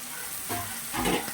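Potatoes frying in oil for aloo dum crackle in a close, steady sizzle with a couple of louder stirring swells, no talking.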